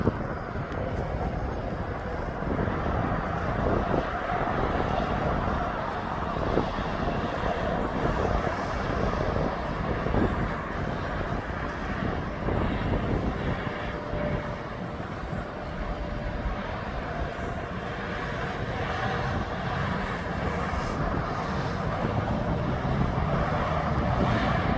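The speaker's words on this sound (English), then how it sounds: "he's now taxiing." At East Midlands Airport, an airplane taxis with a steady, loud broadband engine roar and a faint whine, heard outdoors over wind noise for the whole stretch, with no talking.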